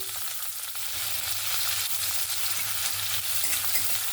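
Onions frying in hot mustard oil with black cumin (kalo jeere) in a wok, a dense, even hiss of sizzling that holds steady throughout, close up and without speech.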